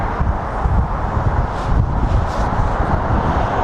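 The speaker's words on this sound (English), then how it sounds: "it's too windy" Steady low rumbling wind buffeting a drone operator's microphone outdoors at Watford Gap Services on the M1, continuous and fairly loud throughout, with no voices.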